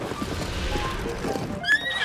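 In Zelda: Tears of the Kingdom, a horse gives a short, bright whinny near the end, following soft hoof clip-clops and quiet background game sound.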